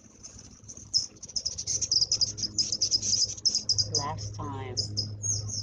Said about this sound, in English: We have a lot of birds in the redwoods right here.